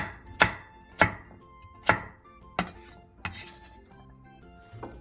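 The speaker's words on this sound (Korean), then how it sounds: "단호박을 한 입 크기로 큼직하게 잘라주세요" A kitchen knife chops peeled kabocha squash into large bite-sized pieces on a cutting board, five or six sharp, spaced thunks with faint clinks between, close and clear, no voices.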